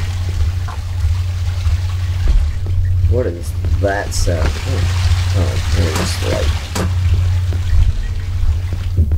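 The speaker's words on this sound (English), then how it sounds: "Like how the water is super loud." Loud, steady running water in the video game Cry of Fear, a constant rushing wash that continues beneath a person talking throughout.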